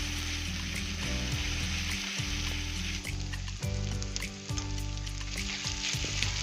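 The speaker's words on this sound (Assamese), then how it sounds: "আৰু এতিয়া মই মিঠাতেল দিছোঁ কেৰাহীত আৰু এয়া বটি থোৱা পিঁয়াজখিনি দিছোঁ। এইখিনি মই ভালদৰে ভাজি ল'ম।" Sliced onions sizzle and fry in hot mustard oil in a wok, a steady, close crackling hiss that carries on without a break, with occasional stirring.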